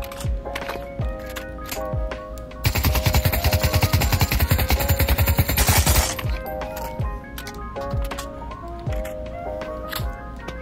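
An assault rifle in Pavlov VR fires one loud, sustained automatic burst lasting a few seconds, set against steady game music with no talking.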